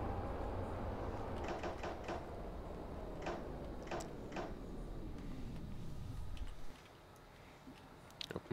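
Metro train doors operate in the Metro Simulator video game: a rumbling hum with a series of short clicks and chime-like ticks, then the rumble cuts to a quieter hum with a few final clicks.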